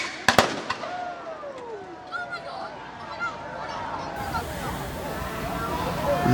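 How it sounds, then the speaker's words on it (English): Fireworks crackle and pop in quick bursts at the start, then whistling rockets and distant booms continue over a busy, murmuring crowd and engine-like rumble at a racetrack in Sanford. "That right there is probably the most expensive fireworks show you're going to see on a racetrack."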